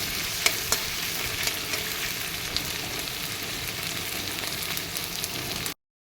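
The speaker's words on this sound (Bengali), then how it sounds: "এবার আগে দিয়ে দেব কাক্কা শুটকিগুলো, দিয়ে একটু ভেজে নেব।" Dried kakka shutki fish frying with onions in a pan, a steady close sizzle throughout with a few sharp ticks of stirring, alone without talk.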